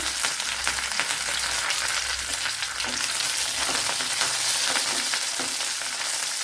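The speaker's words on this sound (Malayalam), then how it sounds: "ഇതിലേക്ക് കുറച്ച് കറി ലീവ്സ് ഇട്ട് കൊടുക്കുക" Curry leaves, garlic and ginger fry in hot oil in a pan, giving a loud, continuous sizzle and crackle with occasional stirring scrapes and no talking.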